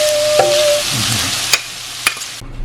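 Onion frying in a hot pan at home, a steady broadband sizzle with a few sharp clicks of a utensil against the pan, ending abruptly in near silence.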